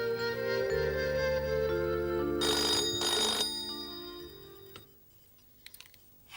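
An indoor telephone bell rings in a sustained electronic trill with two bright bursts, loud and near over a held musical drone, then fades to quiet with a few faint clicks at the end.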